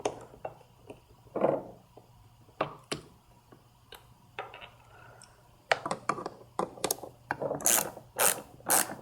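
Ratcheting clicks from a hand tool backing out T25 Torx screws on a mass airflow sensor housing during a VW 2.0T TSI intake swap, close and quiet, in irregular bursts of ticking with small handling knocks between.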